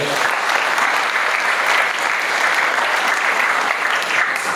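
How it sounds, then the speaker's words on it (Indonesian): A gathering at an Islamic boarding school claps for Habib Novel Bamukmin, steady, even applause from a sizeable audience held throughout at an unchanging level. "sekali lagi tepuk tangan buat beliau"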